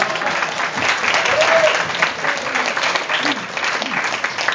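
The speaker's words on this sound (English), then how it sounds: "let's have a round of applause for that." Wedding guests break into a round of applause, a loud, sustained crowd of clapping that swells in the middle, with some voices mixed in.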